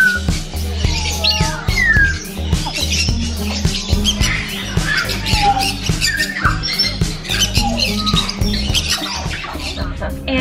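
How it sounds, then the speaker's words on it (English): Parrots squawking at a small parrot show on Baiyun Mountain in Guangzhou, shrill calls scattered over a busy crowd murmur with people talking nearby throughout. "They have a little parrot show."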